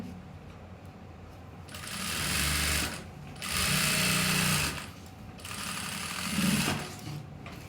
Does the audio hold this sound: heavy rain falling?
no